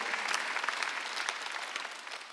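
Congregation clapping during a Sunday worship service at a church, a steady wash of applause lasting a couple of seconds with no voices over it.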